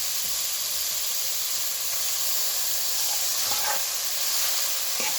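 Mutton sautéing in onion-tomato masala, a constant loud hissing sizzle with faint scraping stir sounds, no voices.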